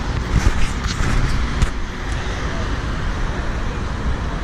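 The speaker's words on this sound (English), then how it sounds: "But nowadays, it's just really busy, full of pedestrians and traffic" Busy city street traffic in Sarajevo, with cars and other road vehicles passing in a steady, fairly loud roar and occasional brief bumps of nearby noise.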